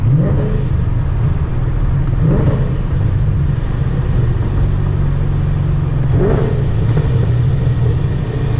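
A Procharger-supercharged Ford Mustang engine revs hard through a full-throttle pull, a loud, steady, close roar that builds with rising pitch, shift surges audible around the middle and near the end, no talking.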